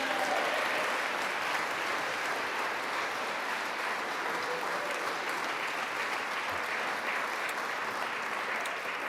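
An audience at the 44th Annual Mayor's Arts Awards gives award winners a sustained round of applause, an even wash of clapping heard from a distance for several seconds.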